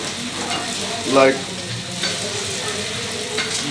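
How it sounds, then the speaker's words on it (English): Food fries in a little ghee with a strong, steady sizzle, stirred now and then with one louder scraping clatter. A voice speaks briefly over it. "Now we put ghee and little more fry, will be ready."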